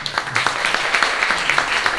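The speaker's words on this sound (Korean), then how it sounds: "우리 박수로 맞이하겠습니다" Audience applause welcomes a professor taking the stage at a Chongshin University mission graduate school forum, a steady patter of clapping from a moderate crowd in a hall, fairly loud throughout the short stretch.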